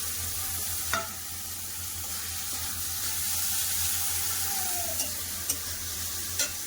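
Peas sizzle in a pan with paneer and potatoes, a constant crackling fry under occasional stirring scrapes and a few sharp clinks of a utensil against the pan, without any speech.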